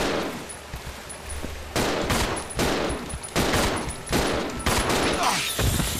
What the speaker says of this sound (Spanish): puedo abatirlos a tiros con la pistola